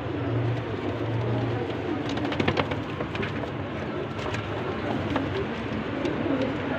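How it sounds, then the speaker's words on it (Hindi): Golden Kamagar pigeons coo softly and repeatedly against a steady outdoor background hum, with scattered faint calls and rustles throughout and no clear speech. "ये देख लें कबूतर आपके सामने है"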